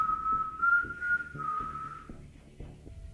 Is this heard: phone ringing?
no